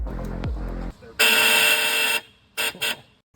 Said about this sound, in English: we didn't know that the horn was going to sound like this though